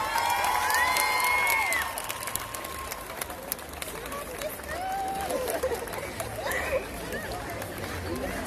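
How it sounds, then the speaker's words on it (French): An outdoor crowd at a Fête de la musique concert in Roanne cheers and applauds a band, a loud burst of clapping, whistles and shouts that fades into a lingering crowd murmur as people talk. "merci de les applaudir"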